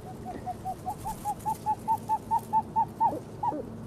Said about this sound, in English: So we'll listen to the o-whoop call and then the hyena.